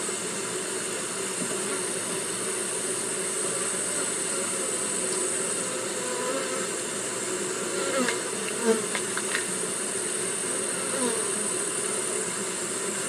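Honey bees crowd over hive frames, a dense continuous buzz from a mass of insects holding steady close by, with a few faint handling clicks partway through.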